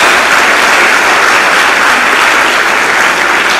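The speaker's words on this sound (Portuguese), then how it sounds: "Dá uma salva de palmas a Jesus" Church congregation applauding loudly and continuously, a dense wash of many hands clapping nearby with no talk over it.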